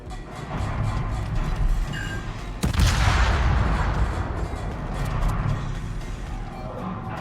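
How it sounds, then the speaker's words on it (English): A single heavy battleship gun salvo booms out in a naval video game, fired at the Iowa, one sudden loud blast followed by a rumbling decay over steady background engine and sea noise. "we're going to fire on the Iowa"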